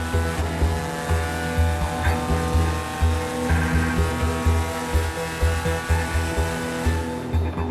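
Ferrari and Ford GT race cars in the GTE Pro class at Le Mans give off a loud, sustained engine drone that pulses rhythmically throughout, with no talking.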